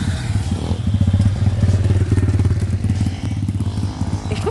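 A motorcycle engine idling and revving up close at a mini wheelie event, a loud throbbing rhythmic exhaust pulse with some clatter, rising and settling over a few seconds.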